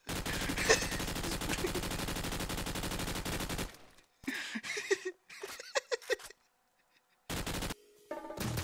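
Rapid gunfire from a Roblox shooter game, a dense sustained burst of shots followed by scattered short bursts and brief gaps of silence.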